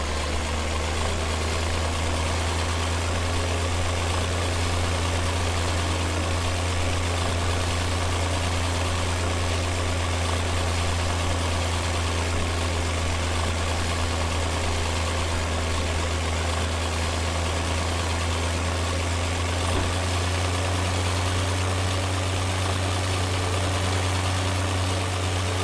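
A small tractor engine idles in Farming Simulator 17, a steady low rumbling drone with a constant hum that runs unchanged and alone throughout.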